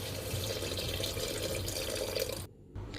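Water pours steadily into a cooking pot of drumstick (shevga) curry, a continuous splashing stream that cuts off near the end.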